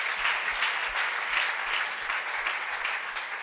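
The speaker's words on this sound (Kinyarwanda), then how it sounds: "reka tubakomere Imana amashyi menshi" A church congregation claps in sustained, even applause filling the room, steady and fairly loud throughout with no voices standing out.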